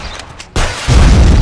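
A grenade goes off in a shooter video game, a sudden broadband boom that swells into a sustained low rumble, loud and close, following a quieter stretch of muffled background.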